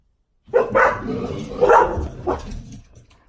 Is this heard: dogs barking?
yes